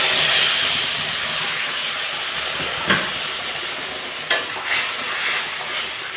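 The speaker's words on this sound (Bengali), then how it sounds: "মশলাটাকে এখন ভালোভাবে আমি কষিয়ে নেব।" A spice paste of ground garlic, dried and green chilies, turmeric and salt fries in a pan, giving a steady sizzle and hiss with a couple of brief stirring clatters, close and alone without talk.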